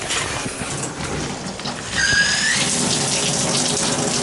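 Shower water runs from a showerhead into a bathtub with good pressure, a steady hiss that grows louder midway, with a brief squeal from the fixture as the flow picks up.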